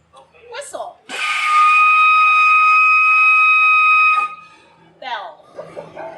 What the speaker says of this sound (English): some of the walrus's most unusual vocalizations, like a whistle sound